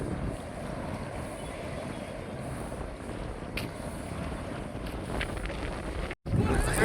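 Steady engine drone and rushing wind noise fill the whole stretch, the roar of an open motorboat with a top-mounted motor underway, broken only by one momentary dropout.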